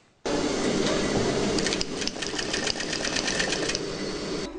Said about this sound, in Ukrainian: Для неї працювати за швейною машиною звична справа